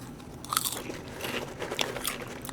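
Popcorn being chewed close up, with crisp irregular crunches and bites repeating steadily across the moment with no talking.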